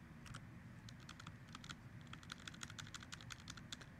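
Password keys tapped on a computer keyboard, a quick irregular run of close, crisp clicks over a steady low background hum, with no talking.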